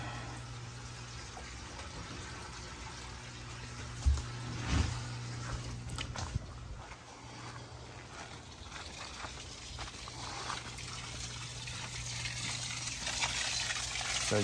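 Water draining from a filter barrel onto the ground, a soft continuous gush and trickle with a low hum beneath and a few brief knocks.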